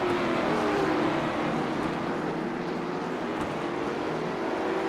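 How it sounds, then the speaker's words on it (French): A late model stock car engine in an amateur-division sim race at Okayama roars steadily and loudly, a continuous droning hum with no pause. "Le moteur qui rugit très fort, toujours très agréable à entendre."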